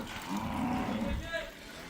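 A cow gives one low, drawn-out moo, moderately close and fairly quiet, against faint outdoor background noise.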